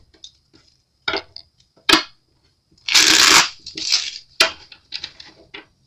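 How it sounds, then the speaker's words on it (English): A deck of tarot cards is shuffled close by in several separate bursts of riffling and slapping, with one longer flurry near the middle and short pauses of quiet between the bursts. "I just need to shuffle these cards for you"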